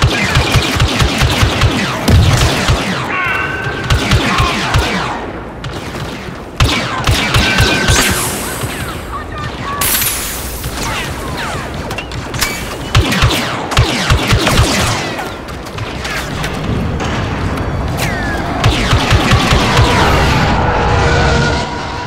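Sustained barrage of incoming rockets, booming explosions and rattling gunfire in a Star Wars Battlefront II battle, loud and dense throughout with repeated heavy impacts and bursts layered over one another.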